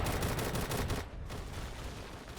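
Machine gun fire from a WWII strategy game with British parachute infantry and armor, dense crackling bursts filling the first second, then thinning to a quieter rumbling background of distant battle.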